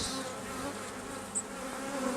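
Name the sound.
honeybees buzzing at open hive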